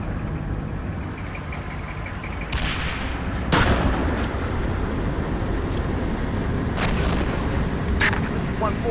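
Incoming artillery fire in the tactical simulator Steel Beasts Pro PE, with sharp booming impacts around 2.5, 3.5 and later seconds standing out over a constant rumbling battlefield background, while radio chatter runs underneath.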